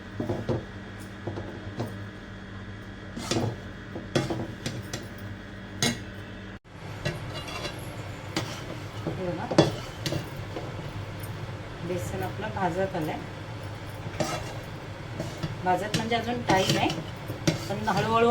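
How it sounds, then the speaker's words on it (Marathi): Besan (gram flour) stirred with ghee in a pan: repeated scraping and clinking of a metal spoon against the pan in an irregular rhythm, close and clear, while someone talks throughout. "आपला चालवत राहायचं आहे बेसन सतत हे करत राहायचं कारण खाली लागलं नाही पाहिजे"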